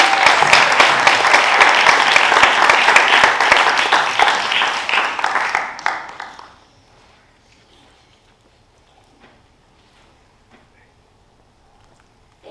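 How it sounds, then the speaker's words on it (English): Loud audience applause honouring graduating seniors at a university marketing club guest speaking event, dense clapping for about six seconds before fading abruptly into a quiet room with scattered faint noises. "Let's just have one more round of applause for all of our seniors."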